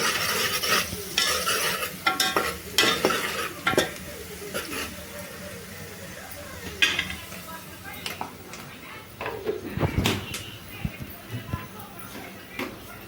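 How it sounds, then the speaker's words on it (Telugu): Onion pieces fry with turmeric in a pan, with repeated scraping strokes of a spoon stirring them over a soft sizzle, close up, while a voice speaks intermittently. "ఇది 2 నిమిషాలు ఫ్రై అయిపోవాలి"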